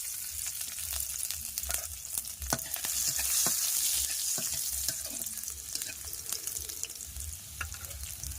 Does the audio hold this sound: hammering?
no